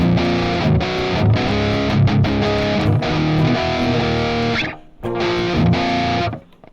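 Loud, saturated electric guitar through the AmpRoots amp simulator with the interface preamp turned up, crunchy distortion, sustained chords and short chugs, a brief drop-out midway, then fading at the close.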